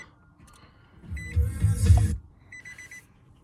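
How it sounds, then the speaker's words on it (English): A truck's door-open warning chimes in quick repeated beeps, faint and close, with rustling and a short burst of handling noise in between. "It's gonna beep until I close the door."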